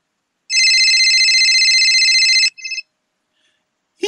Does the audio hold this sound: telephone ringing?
yes